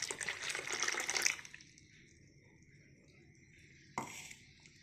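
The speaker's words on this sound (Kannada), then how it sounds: "ಮತ್ತು ಜಾರಿಗೆ ಸ್ವಲ್ಪ ನೀರು ಹಾಕಿ" Water splashes briefly into a mixer jar with ragi batter for beetroot halwa, a bright pouring burst for about a second, then near quiet and a single short clink or splash at the end.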